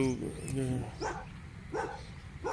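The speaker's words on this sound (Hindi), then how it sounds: "कुत्ते हैं" Dogs bark in a few short, spaced yaps near the ruins of abandoned houses, moderately close, while a person talks over them.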